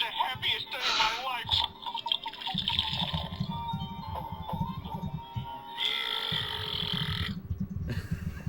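A novelty electric beer room toy lets out a loud, drawn-out mechanical burping noise when a bottle is opened, recurring in bursts with excited voices talking over it.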